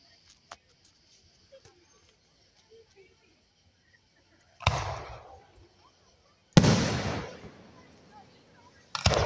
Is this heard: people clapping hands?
no